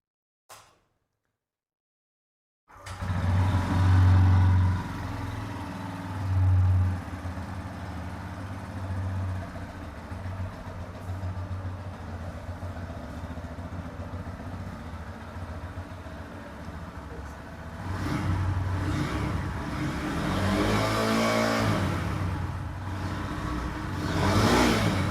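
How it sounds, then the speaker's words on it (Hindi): A Bajaj N125 motorcycle engine runs for over twenty seconds after a short silence, with a steady exhaust drone and a couple of stronger rev swells at the start and near the end. "तो स्टार्टिंग में ही इसका आपको एग्जॉस्ट साउंड उसको सुना देते हैं।"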